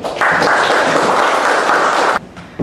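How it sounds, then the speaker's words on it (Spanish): A hall audience at a doctoral literature colloquium breaks into dense, steady applause for an introduced speaker, holding for about two seconds before cutting off abruptly. "Un aplauso para ella."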